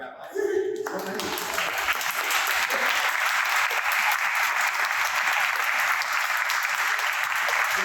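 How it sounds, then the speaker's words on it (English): An audience applauds the rabbis at the Museum at Eldridge Street, steady, dense clapping that starts after a brief moment of talk and fills the room with sustained, loud, even applause until the end. "I'd like to give them a round of applause, because they're our future"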